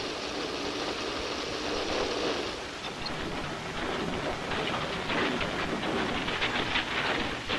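Grain milling machines with steel rollers cracking wheat kernels give a steady, dense mechanical roar with a fine rattling grind, continuous and fairly loud throughout.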